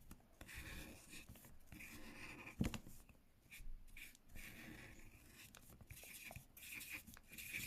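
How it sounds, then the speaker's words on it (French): A pencil scratches and rubs across paper while a flower is drawn for a DIY craft, giving faint, close strokes in irregular bursts with soft pauses between them. "on va commencer par dessiner la fleur"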